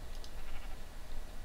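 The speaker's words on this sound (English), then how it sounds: "Get out of the way, stupid sheep." Sheep bleating in the Minecraft video game, a few short blats near the start against a steady low background hum, with no talking.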